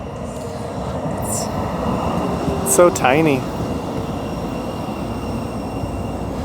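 A public transport train passes through downtown Sacramento, rumbling steadily beneath street ambience with a brief squeal of wheels or brakes near the middle; people talk nearby over the passing rail noise.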